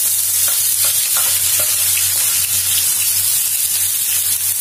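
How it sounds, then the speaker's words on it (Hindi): Onions frying in hot oil with browned cumin seeds for street-style veg keema, a steady close sizzle with occasional stirring clinks, no talking. "जीरा हमारा ब्राउन हो गया है, अब इसके अंदर हम अनियंस डाल देंगे।"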